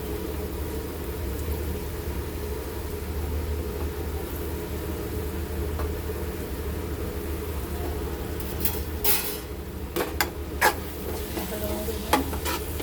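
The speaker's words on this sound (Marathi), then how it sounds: "मिक्स करूया सगळ्यांना. पनीर चांगला मिक्स करून" Paneer bhurji with onion and tomato sizzling in a pan while being stirred, a continuous close frying hiss with scraping stirs and a few sharper utensil clicks toward the end, no voices.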